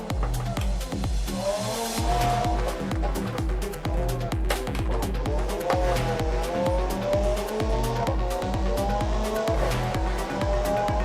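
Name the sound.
car skidding and braking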